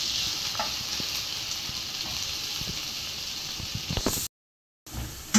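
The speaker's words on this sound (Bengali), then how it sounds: "এখন আমি পেঁয়াজটা একটু ব্রাউন কালার করে ভেজে নিব" Chopped onions frying in hot soybean oil in a pan, a steady, dense sizzle and hiss running continuously with faint stirring scrapes, broken by a short silent gap near the end.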